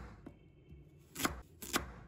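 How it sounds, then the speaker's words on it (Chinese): A kitchen knife slices a carrot into thick pieces on a board, giving a few soft taps followed by two sharper, distinct chops, close and fairly quiet. "把它切成厚片。"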